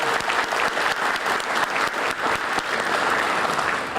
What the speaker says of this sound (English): Let's make some noise so that Chef McAfee and his team in the kitchen can hear us.